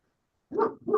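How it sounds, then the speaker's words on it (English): A dog barks twice in quick succession in the background at home during an online summit talk, two short, fairly close barks after a moment of silence. "if you hear the dog barking in the background"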